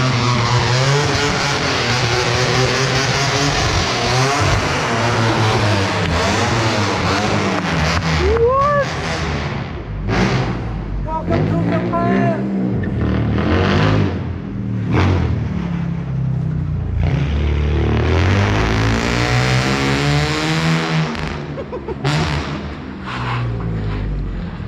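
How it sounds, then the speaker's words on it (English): An Australian-built Bosozoku-style car engine runs loudly and close, revving repeatedly with rising and falling pitch sweeps in a garage setting, with brief pauses between blips and excited voices under the engine noise. "Turn the car on."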